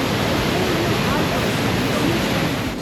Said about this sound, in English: I thought it'd be more like a big waterfall. It's more like a strong stream than anything.